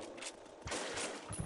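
Rapid gunfire from shooting zombies in SAS Zombie Assault 3 plays as a dense, continuous burst of game shots that grows louder partway through, with no talking.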